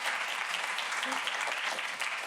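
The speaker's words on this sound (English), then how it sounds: "Can I give her another round of applause?" Applause from an audience at a Write By The Sea 2024 literary festival event, a steady dense wash of clapping throughout the short stretch, moderately loud with no clear talk over it.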